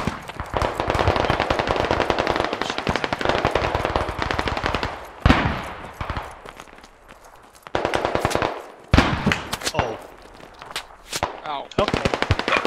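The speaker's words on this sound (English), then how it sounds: "I think I saw someone shooting at us for that compound." Rapid automatic gunfire from a tactical shooter video game, loud dense bursts of machine-gun fire filling most of the stretch, with brief pauses and single sharp shots between volleys.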